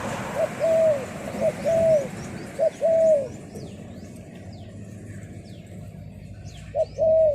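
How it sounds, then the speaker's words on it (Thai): A pigeon coos in short, soft repeated phrases with pauses between them, over faint background noise and distant chirps. "เสียงไม่เหมือนลูกเพาะนะครับนกตัวนี้"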